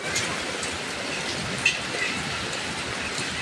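Rain mixed with hail falls in a dense, continuous patter, a steady hiss of many impacts close by with one brief sharper tick in the middle.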